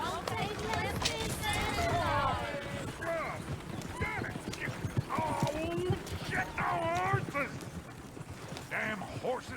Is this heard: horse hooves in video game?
yes